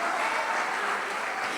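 A church congregation applauding during a worship service, a steady dense wash of clapping filling the whole moment at moderate level with no voice over it.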